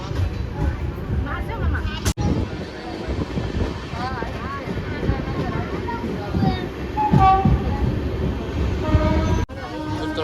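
A train rumbles through busy Surendranagar railway station, with steady mechanical noise, a few horn-like tones, and voices talking over it.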